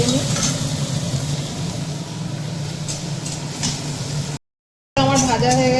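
Prawns frying in oil in a steel wok while being stirred, a loud steady sizzle with scraping stir strokes, broken by a brief cut before a voice speaks at the end.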